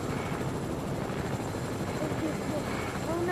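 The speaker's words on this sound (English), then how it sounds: "The helicopter moves and everything." Helicopter in a video game flying steadily with a continuous broadband rotor and engine roar, loud and sustained throughout, with speech-like sounds faintly mixed in.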